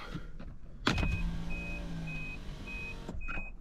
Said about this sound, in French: Dès qu'on descend une vitre, qu'on remonte, ça bip.